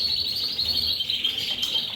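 Dense, continuous high-pitched chirping and twittering from many coloured canaries and native finches, steady and fairly loud throughout.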